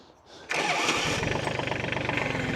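A small 30 hp Kioti tractor diesel cranks and catches, then settles into a close, steady chugging idle with a rapid even knock.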